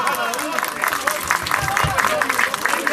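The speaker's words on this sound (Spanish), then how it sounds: "pido las palmas, el aplauso" A crowd at a tribute concert applauds a singer with sustained, fairly loud clapping, while voices and cheers rise over it.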